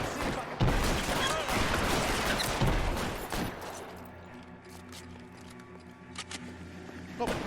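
Bursts of gunfire in the crime shooter L.A. Noire, a dense volley of shots up front that fades into a quieter stretch with a few scattered sharp cracks near the end, while someone talks over it.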